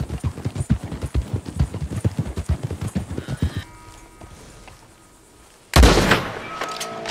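Hooves of a Missouri Fox Trotter horse in a video game clip-clop in a fast, steady rhythm, then stop into quiet before a sudden loud burst like a gunshot or blast.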